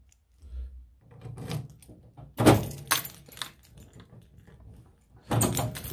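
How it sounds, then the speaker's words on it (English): Keys for a tool chest lock jangle and clink in a few short, close bursts, with light handling knocks between them. "I'll just show you keys."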